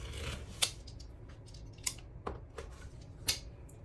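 A rotary cutter slices through wreath material on a Dollar Tree bicycle wheel frame project, giving a few sharp, quiet crunching cuts spaced out over a low background hum.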